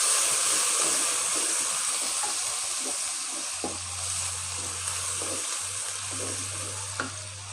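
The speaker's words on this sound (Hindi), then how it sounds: "अच्छा सा फ्राई कर लेते हैं इनको।" Beef trotters (paya) fry in a pan with a loud, constant sizzling hiss, broken by occasional faint stirring taps, while a low steady hum joins in about halfway through.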